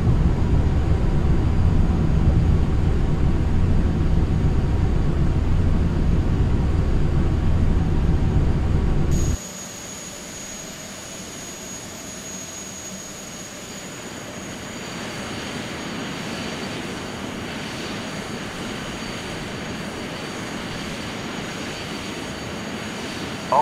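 Jet airliner engines drone steadily on approach in Microsoft Flight Simulator X. A heavy low roar suddenly drops to a quieter, thinner whine partway through, then holds constant.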